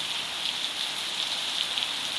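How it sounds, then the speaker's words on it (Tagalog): Heavy rain pours down steadily in a dense, continuous hiss with a constant loud wash of drops on a surface and no breaks. "Ay, ang lakas ng ulan."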